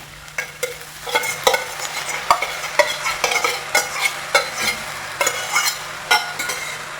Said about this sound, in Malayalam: ഇതെല്ലാം കൂടെ നല്ലതുപോലെ മിക്സ് ചെയ്യും.